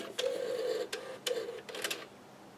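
An NEC MultiSpin CDR-C251 CD-ROM drive powering up on a lab supply, giving a few whirring spin-up bursts with brief mechanical clicks and pauses, fairly close and alone.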